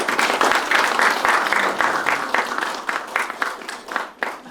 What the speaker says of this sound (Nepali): सबैजनाले चाहिँ तालीले स्वागत गरिदिनु होला है त